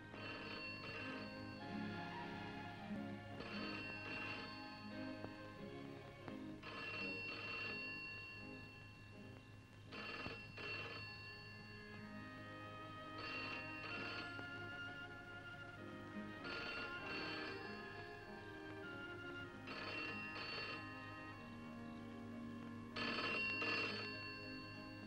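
A telephone bell rings in repeated bursts at a steady rhythm, about seven double rings spaced a few seconds apart, faint and set against a low background tone in a film scene.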